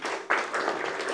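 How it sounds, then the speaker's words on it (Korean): Audience applause at a regional policy forum and awards ceremony welcoming a speaker to the podium, a short burst of moderate clapping from a seated crowd that jumps up and continues evenly. "큰 박수로 환영해 주시기 바랍니다."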